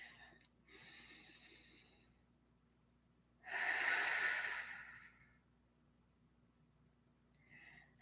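A slow, deep breath drawn during guided meditation: a soft inhale, a pause, then a louder, longer exhale lasting about a second and a half, close and alone, ending with a faint breathy trace.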